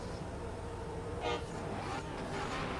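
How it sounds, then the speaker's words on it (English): A drift car sounds its horn at a drift event to signal the start of its run: one short honk in the middle, fairly distant, over steady background noise. "Alright, there's his horn, and he is off."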